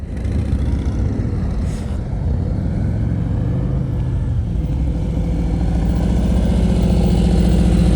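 A motorcycle engine runs low and steady during slow-speed riding practice, a continuous near rumble at low revs with a slight rise toward the end, no voices.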